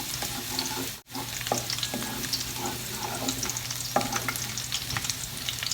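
Garlic frying in a pan for pork ribs hamonado, a steady close sizzle running throughout with light stirring scrapes, no talking.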